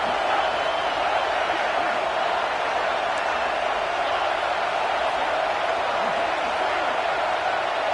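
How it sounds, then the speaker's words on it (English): A football stadium crowd roars loudly to rally its defense, a dense, unbroken wall of cheering that holds steady from start to finish. "Listen to this crowd just shaking the girders of this place"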